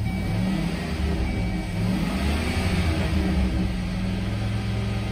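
A 2006 Chevrolet Silverado 3500 pickup, mileage around 18,000 and frame rotted, idles steadily after starting, a loud continuous low engine rumble running unbroken with no talk over it.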